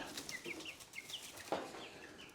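Young chicks cheep and cluck in a homestead brooder, with a rapid run of short, high peeping calls and a few louder squawks, fairly quiet and close with no talking.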